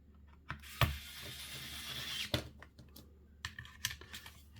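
Small screws being driven back into a New 3DS XL handheld console with a small screwdriver, giving scattered faint clicks and ticks with several sharper taps, close and quiet, with no talking.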